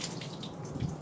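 Water from a hose runs through a Honda B16A engine during a coolant flush, a soft, steady splashing trickle heard alone and fairly quiet.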